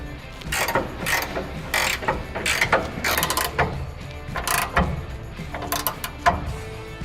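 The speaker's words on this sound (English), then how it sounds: "we're going to deploy our step to get better access, just like that" A retractable bed step deploying on a 2007–2013 Chevy Silverado, with a series of close, sharp mechanical clicks and ratcheting clatters in irregular bursts.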